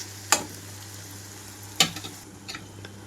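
Brinjal pieces fry in a pan over a medium flame, a soft steady sizzle running underneath as two sharp spatula scrapes land about a second and a half apart, followed by a few lighter clinks.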